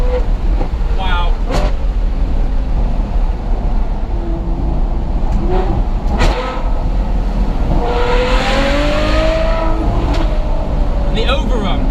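A Ferrari F12 engine on overrun crackles and pops, sharp isolated bangs over a steady loud road and engine roar, with a short burst of crackling toward the end.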